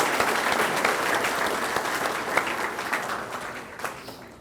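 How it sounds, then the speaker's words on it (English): Audience applause at a fire and rescue promotion ceremony, a sustained, dense round of clapping from a crowd that stays steady and close before tapering slightly toward the end. "Let's give them all another hand, a round of applause."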